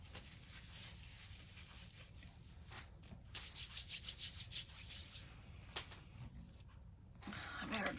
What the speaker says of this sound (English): And then we'll start sanding them up